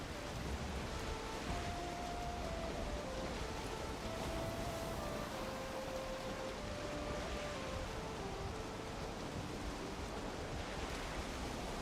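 Rain falling steadily in the video game Valheim, a constant even hiss of drops with soft wind beneath and a faint sustained musical tone drifting in the background.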